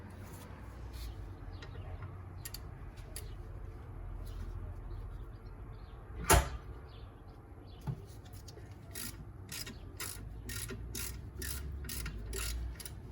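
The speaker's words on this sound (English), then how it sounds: "we need to get the disc off, so we need to undo that with an HX5" An HX5 Allen bit works the rear brake disc screw on a Mercedes 220CE W124 coupe, giving quiet mechanical clicks and a sharp metallic crack, then a run of ratchet clicks near the end over low background hum.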